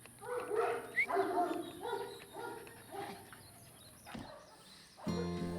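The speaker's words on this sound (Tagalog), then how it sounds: "Una naming pinapalabas ang mga tuta upang sila ay makapaglaro" Several puppies yip and bark in a quick, overlapping flurry outdoors during a morning play session, with birds chirping faintly behind them and the activity easing off before a louder thump near the end.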